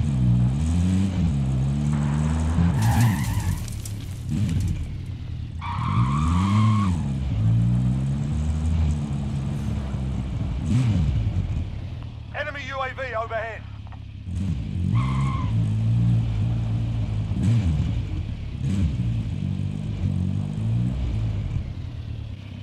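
A vehicle engine drones and revs through changing gears in Call of Duty gameplay, loud and close with rising and falling pitch sweeps, a brief rattling burst midway and muffled game effects mixed in.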